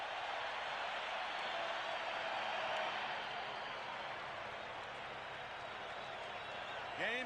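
Crowd roar fills a baseball stadium during Game 4 of the 1991 World Series, Minnesota Twins at Atlanta Braves, in the top of the ninth: a steady, dense wash of cheering and clapping that holds loud for the whole stretch.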